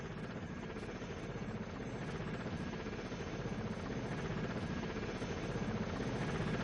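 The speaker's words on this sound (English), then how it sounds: "This is our extraction helicopter. Black Hawk." Steady, dense rotor and engine drone of a Black Hawk extraction helicopter in the Delta Force video game, loud and continuous throughout with no talk over it.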